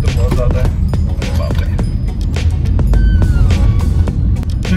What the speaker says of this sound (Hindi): तो गाइस ट्रैफिक तो बहुत ज़्यादा है